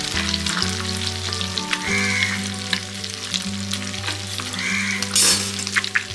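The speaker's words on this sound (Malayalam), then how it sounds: "രണ്ട് വശവും നന്നായിട്ട് പൊരിഞ്ഞു വരണം" Fish pieces fry in hot oil in a pan for fish pickle, a steady loud sizzle running throughout with occasional scrapes and stirring clatter, with no voices.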